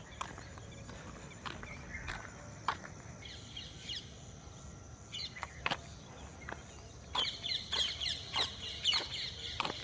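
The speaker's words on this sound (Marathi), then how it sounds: "पक्ष्यांचा किलो बिलाट चालू आहे" Birds chirping in scattered short calls over a soft outdoor hiss, turning into a quicker run of repeated chirps toward the end.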